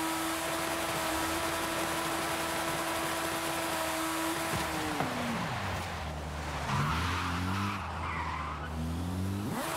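A car drifts across an ice rink in Forza Horizon 5, its engine roaring steadily while tires skid and squeal without a break, loud and close, and the revs drop and climb again partway through.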